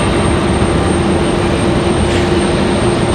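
A Breeze Airways airliner roars at Raleigh-Durham airport, a loud, steady wash of engine noise that holds without letup over a few seconds.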